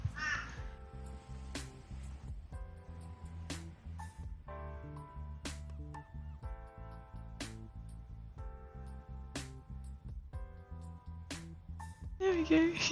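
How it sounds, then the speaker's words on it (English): Crows calling outdoors, cawing in repeated harsh bursts at a moderate distance, with a person talking and clicking throughout. "Oh, you hear the birds."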